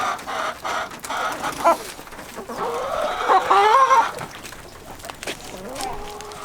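Chickens on a snowy homestead clucking and squawking close by, a busy flock with overlapping calls and a few longer rising cries, fairly loud and continuous throughout.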